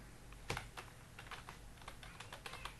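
Code is tapped out on a computer keyboard in an irregular run of quiet, close keystrokes, one sharper click standing out early, with no voices.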